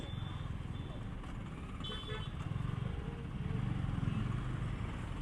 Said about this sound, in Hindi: हर जगह ट्रैफिक।